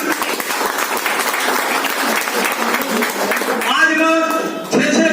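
Loud, dense audience applause fills the space, sustained clapping from a crowd with some voices mixed in, changing texture near the end as it continues.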